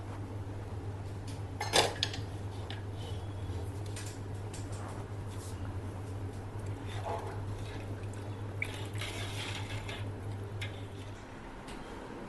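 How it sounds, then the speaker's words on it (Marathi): A metal cooking pot is set onto a second griddle placed over the stove to keep the rava kurdai batter from scorching. There is one sharp clank early on, then a steady low hum and faint clinks. "हे खाली जळू नये म्हणून याच्यावर मी आधी हा दुसरा तवा ठेवते आणि त्याच्यावर मी हे पातेलं ठेवणार आहे"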